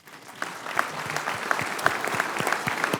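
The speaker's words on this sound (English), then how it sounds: "a round of applause, please, for them." An audience at a hearing claps for a veterans' delegation. The applause starts quietly and builds within half a second into steady, moderately loud clapping with distinct individual claps.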